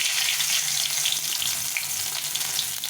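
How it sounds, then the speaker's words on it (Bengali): Dried red chili, cumin seeds and bay leaf hiss in hot oil with a dense, continuous, bright sizzle heard up close without pause. "তেলটা গরম হয়ে গেছে শুকনো লঙ্কা জিরে সাদা জিরে তেজপাতা দিয়ে দেবো"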